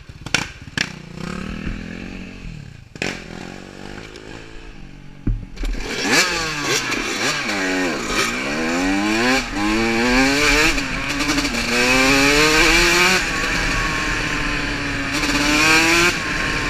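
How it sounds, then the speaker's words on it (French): An ATV quad engine is started, with a few short cranking bursts and coughs, then it catches and revs hard in rising and falling surges, loud and close. "Y a-t-il un kickstart sur ton 4 roues?"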